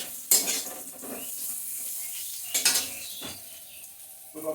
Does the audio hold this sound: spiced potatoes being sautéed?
yes